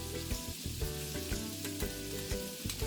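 Ginger fries in butter in a pan for a sizzling seafood dish, an even close sizzle broken by repeated soft stirring scrapes and clinks, with no one speaking.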